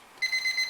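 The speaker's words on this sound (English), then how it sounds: "so I'm going to set the timer for 10 minutes" A kitchen timer alarm rings in a quick series of short, evenly spaced electronic beeps, clear and close, sounding while live jumbo Maine lobsters boil.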